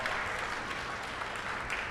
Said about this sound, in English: So please applaud Doktung